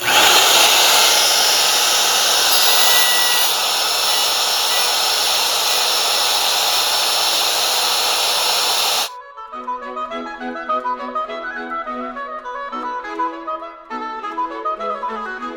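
A loud, steady whine of a power router trimming plastic piano keytops runs unbroken for about nine seconds, then cuts off abruptly as soft piano notes take over.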